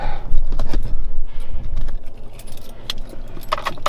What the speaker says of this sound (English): Let's get my keys out before I get in there because I don't want to have to fight through that.